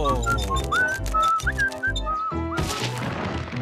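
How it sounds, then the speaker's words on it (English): A cartoon character whistles a tune in a string of bright, sliding notes over busy background music and thumping effects, followed by a louder noisy burst of sound in a 64 Zoo Lane animated story. "Must you always whistle the same tune?"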